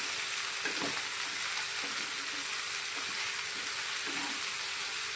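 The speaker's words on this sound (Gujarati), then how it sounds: "અને બધા શાકને આપણે તેલની સાથે સારી રીતે મિક્સ કરી લઈશું" Valor beans and brinjal are stirred through hot oil in a kadai, giving a steady bright sizzle with a few soft spoon scrapes and clunks spaced out over several seconds.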